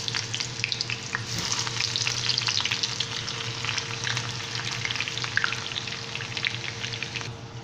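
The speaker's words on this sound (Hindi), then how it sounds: "जैसे ही हमारे प्याज ब्राउन होंगे हम इसके अंदर ज़ीरा डालेंगे" Onions frying in two large spoons of oil for a tadka tempering, a steady close sizzle and crackle with occasional stirring scrapes, continuous throughout with no talk.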